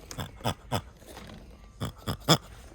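A faulty toy pig gives a string of short, squeaky oinks, a few quick ones, a pause, then three more in a row, near and fairly loud.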